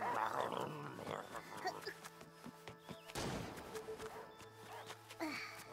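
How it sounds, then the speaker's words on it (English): A dog in the video game Last Day of June, making whimpers and small yips with a low growl over soft game music and ambience. "the dog takes the ball"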